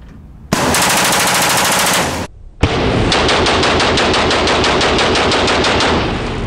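A gun fires on full auto at an indoor shooting range in Miami, in two long, loud, sustained bursts of rapid shots separated by a short pause, with no talking.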